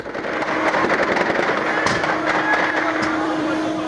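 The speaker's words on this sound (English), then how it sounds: "This is what it looks and sounds like when a car bomb explodes in Iraq." Aftermath of a car bomb explosion in Iraq: sharp bangs and crackling gunfire pops from security forces ring out over a dense roar of commotion and shouting, with sporadic louder cracks near the middle.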